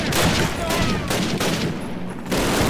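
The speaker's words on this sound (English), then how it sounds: "It's a minigun." Rapid minigun fire in the shooter game Disposable Heroes, loud and sustained in dense bursts with brief gaps.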